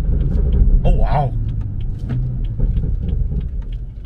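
A BMW M240i fitted with an M Performance exhaust and intake runs in manual mode, its engine rumbling steadily close by with scattered crackles and pops over it, while people talk excitedly inside the car.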